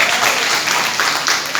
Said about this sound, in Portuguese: Aplaudir também.